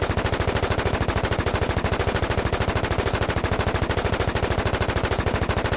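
Rapid, unbroken automatic gunfire in the online survival shooter WarZ, a loud, even stream of shots hammering on without pause.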